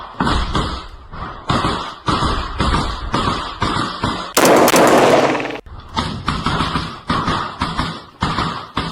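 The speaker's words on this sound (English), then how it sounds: "Ukrainian soldiers advance and engage in fire contact with Russian infantry." Gunfire exchanged in close infantry combat between Ukrainian and Russian soldiers: a steady run of sharp, loud reports in irregular bursts, with one dense sustained blast of noise midway, no talk.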